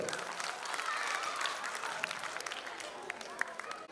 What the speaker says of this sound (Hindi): विजेताओं के लिए जोरदार तालियां।